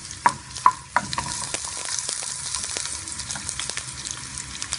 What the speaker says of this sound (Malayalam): ഉള്ളി നന്നായി ഫ്രൈ ആയി വരണം